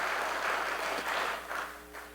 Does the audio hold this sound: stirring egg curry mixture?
no